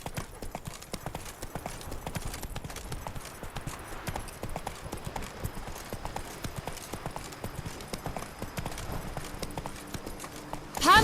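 Horse hooves clip-clop steadily beneath a rider in The Witcher 3 video game, a continuous rhythmic trot over ambient game noise, with no talking.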